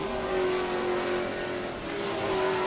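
A race car in Sportsman Group qualifying at New Smyrna heads onto the track at night, its engine a steady, fairly close drone with a brief dip in the middle, no voices.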